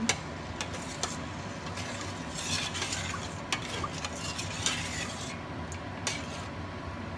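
A big spoon stirs coconut milk in a pot, steady soft scraping and swishing with light metallic clinks against the pot, close and continuous with a low background hum.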